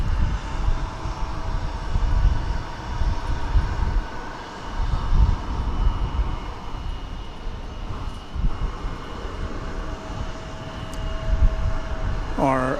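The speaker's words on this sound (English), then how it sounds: "is that 747 cargo from Hainan Airlines? Well, it says Suparna Airlines on it." Suparna Airlines Boeing 747 cargo jet at DFW Airport, a steady broad engine roar rising and falling at moderate distance, with a voice talking over it.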